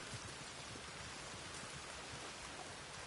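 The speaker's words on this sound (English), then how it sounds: "It's not gonna be a hawk now that it's raining." Rain falls in the open-world western game Red Dead Online, a faint, even hiss of steady drops spread evenly across the whole stretch with no talk or other distinct sounds.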